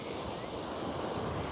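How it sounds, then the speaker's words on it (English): Strong wind gusting at a Florida beach, a steady, close roar of broadband rushing noise buffeting the microphone with surf-like texture throughout, no voices. "Now it is getting really windy, so I don't know how good the audio quality is"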